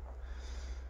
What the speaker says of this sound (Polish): Przepraszam za pociągnięcie nosem